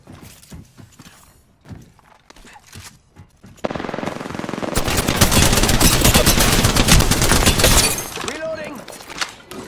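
Heavy, sustained video game gunfire erupts after a few seconds of lighter shots and movement noise, loud and continuous for several seconds before tapering off, with a player's voice talking over parts of it.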